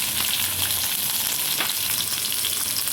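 A pinch of asafoetida hits hot tempering oil, giving a strong, steady hiss and crackle that holds close and unbroken for a few seconds, with no one speaking.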